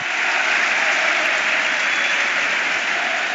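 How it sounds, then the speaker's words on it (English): Home supporters at a Leeds United versus Derby County football match applaud a substitution, a broad continuous wash of stadium clapping and crowd noise, loud and unbroken. "Costa runs out to really good applause from the home supporters"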